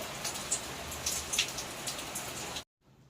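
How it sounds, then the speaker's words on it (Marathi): Steady rain falls outside a home in a dense, even patter with scattered louder drops, continuing for a couple of seconds before cutting off abruptly into near silence. "माझ्याकडे आत्ता इथे दिवसभर सतत पाऊस पडतो आहे त्यामुळे व्हिडिओ एडिट करताना मागे पावसाचा आवाज येण्याची शक्यता आहे"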